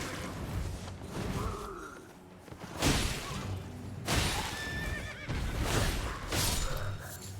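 Horse neighing and whinnying in the video game Elden Ring, a few loud whinnies rising over busy game sounds and music, with some crashing effects mixed in.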